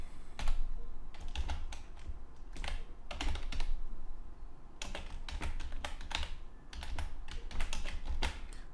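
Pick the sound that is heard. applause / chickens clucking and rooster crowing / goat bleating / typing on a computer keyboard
typing on a computer keyboard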